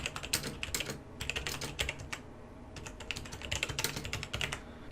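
Fast, steady typing on a computer keyboard, dense runs of crisp key clicks with short pauses, close and clear, no voices.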